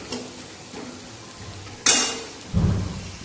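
Egg chilli is tossed and fried with green chillies in a pan, with metal scraping and clinking, a sudden loud hiss as the food hits the hot oil, then a steady sizzle close by.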